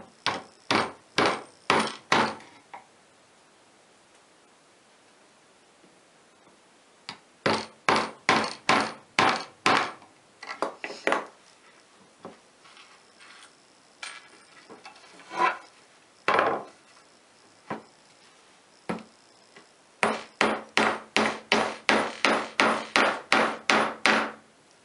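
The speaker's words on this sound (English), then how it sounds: "So we went ahead and hammered in our upholstery tacks in all four of the corners." Upholstery tacks hammered into a wooden picture-holder frame in rapid bursts of sharp, close taps, with pauses and occasional single strikes between the clusters of blows.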